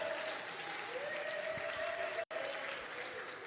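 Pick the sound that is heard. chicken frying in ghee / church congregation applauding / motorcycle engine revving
church congregation applauding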